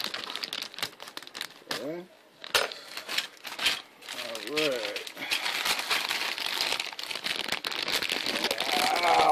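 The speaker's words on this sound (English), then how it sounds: "let me open up this bag" A plastic bag from a model kit is torn open and crinkled up close, with bursts of crackling rustle that turn into steady crinkling, and a voice speaks briefly.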